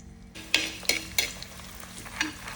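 Onions and curry leaves sizzle in hot oil in a pan, a soft constant frying hiss punctuated by several sharp scraping stirs of a spoon, fairly quiet and close.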